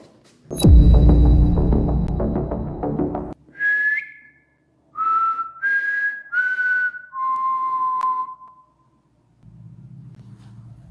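A burst of rumbling noise gives way to a series of clear whistled notes played from a recording, each a short tone stepping gradually lower, followed by quiet hum.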